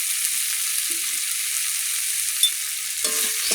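Fish curry with elephant foot yam being stirred in a pan, a steady soft sizzle of frying running throughout with a couple of faint scrapes near the end.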